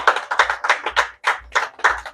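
A church congregation claps in an even, rhythmic beat during an evening service, the sharp close hand claps coming in regular groups with brief gaps and no voices over them.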